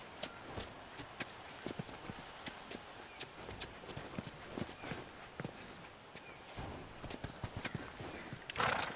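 Horse hooves clop in a steady walking rhythm throughout in The Last of Us Remastered, close and crisp against a quiet background.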